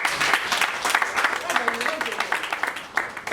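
A small crowd claps for a young person after a brief exchange about future plans at a safety calendar competition event, with dense, steady clapping throughout and voices murmuring underneath.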